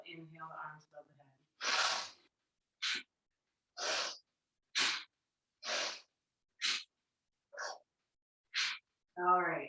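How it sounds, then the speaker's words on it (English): Bhastrika breathing done through the nose during a yoga session: about nine forceful, rhythmic nasal breaths, close and loud, with a brief voice before and after the sequence. "This first round of bhastrika I'm going to do through my nose"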